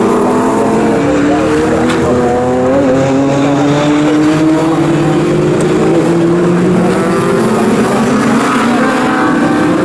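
Classic Thunder and Blue Oval saloon race cars howl past together in a UK club race, several engines droning and shifting pitch at once with occasional tyre squeal, loud and continuous throughout.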